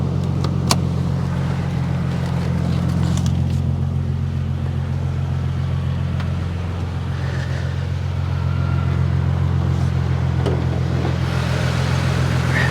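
Car engine idling steadily with the hood open at a Copart salvage auction yard, a smooth, even low hum that holds for the whole stretch, close by and without talk.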